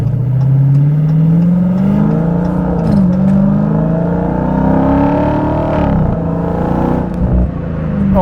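A Dodge Hellcat Jailbreak's supercharged engine roars loudly and continuously while driving, its pitch climbing steadily through acceleration with brief dips at gear shifts, heard from inside the car.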